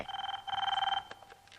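A telephone rings with two bursts of electronic trilling, a short one then a longer one, fairly close and clear, followed by faint clicks.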